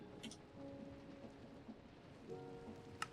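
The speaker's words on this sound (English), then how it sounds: "I think we just have a thunderstorm going on" Steady rain falling through a thunderstorm in the game Minecraft 1.16, a constant soft hiss with a few brief sharper crackles, quiet and even throughout with no voices.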